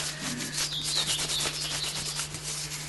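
Pastel is rubbed on glass paper in close, continuous scratchy strokes, each one a gritty, sanding-like rasp with a steady rhythm.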